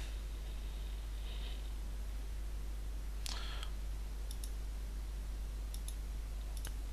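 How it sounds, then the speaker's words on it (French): A few sharp computer mouse clicks on a download button, brief and close, with faint ticks in between against a quiet hum. "Ici, on clique sur le bouton télécharger."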